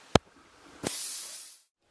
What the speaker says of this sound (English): I'm just going to spray all this hairspray on it